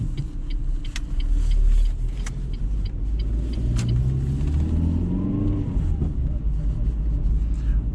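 A car engine runs smoothly during a night drive through Brasov, a low steady hum with a brief swell of revving early on and shifting tonal whine as the car moves through traffic.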